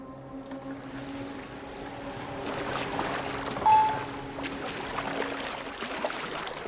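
Viking boat gliding over water in Assassin's Creed Valhalla, a soft continuous wash and lapping of water with faint low creaks, steady and moderately quiet.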